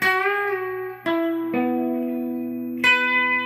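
Electric guitar plays the closing phrase of a song in four sustained picked notes that bend and ring, moderately loud, with no voices.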